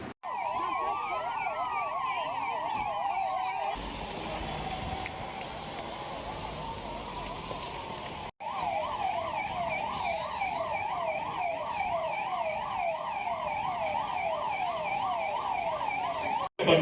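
A 108 ambulance siren wails loud and close, rising and falling in a steady repeating cycle, switching briefly to a slower sweeping tone midway before the rapid warble resumes, with no talk over it.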